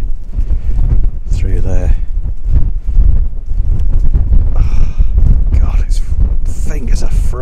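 Strong wind buffets the microphone on a snowy winter hilltop, roaring and gusting loudly throughout while someone talks over it.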